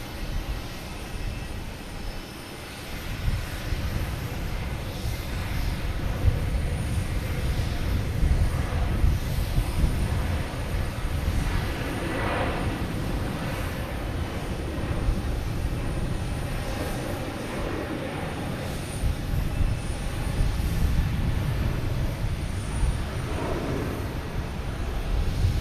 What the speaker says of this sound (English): we have the A330 heading to Amsterdam on 4 right